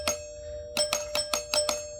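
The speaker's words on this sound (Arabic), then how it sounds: "فهذا الجرس قدامك وسمعتوه" A house doorbell wired into a home system rings with one chime, then a quick run of five repeated chimes, fairly quiet over a steady hum.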